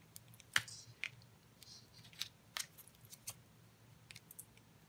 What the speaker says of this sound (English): I'll just snip it off with scissors